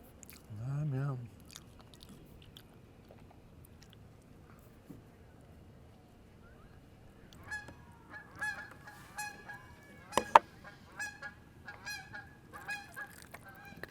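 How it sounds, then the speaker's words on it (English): Canada geese honking overhead on a bicycle tour near Port Perry, Ontario: a short burst of honks early, then faint scattered calls later amid crunching and chewing sounds close to the microphone. "Probably hear those Canada geese overhead."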